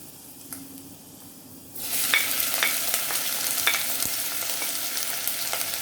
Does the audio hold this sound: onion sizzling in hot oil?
yes